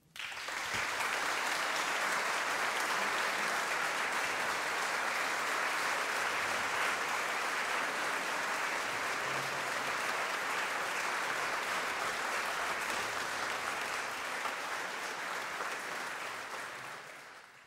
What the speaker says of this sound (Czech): a dcerkou paní Vlastičky Anou Přikrylovou, takže ještě jeden potlesk pro ně.